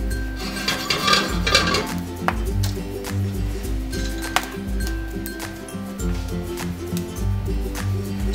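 Corn kernels being stirred in a pan as they parch, producing close rattling, scraping and light metallic clinks and pings in an uneven rhythm, with no talking.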